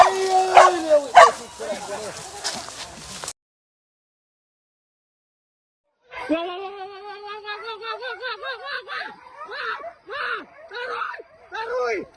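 Hunting dogs yip, bark and whimper in excited bursts during a wild boar hunt in Padang Pariaman, close and loud, with a short silent gap and people's voices mixed in.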